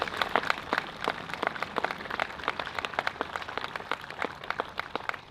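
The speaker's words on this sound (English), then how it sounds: "So can we give a round of applause to Scott?" An outdoor Memorial Day dedication ceremony audience claps, with steady, moderately close applause of many hands running throughout.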